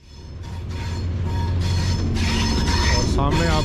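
A train running along Main Line 3 toward the Khojak railway tunnel near Shelabagh, Pakistan, heard from the cab: a steady, loud low rumble that builds and then holds, with rail rattle and squeal on top.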